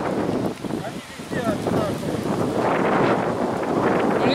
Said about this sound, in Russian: И ветер сильный.